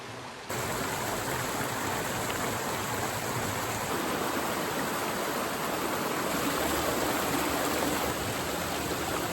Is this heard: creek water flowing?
yes